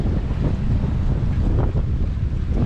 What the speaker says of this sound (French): ça accélère le vent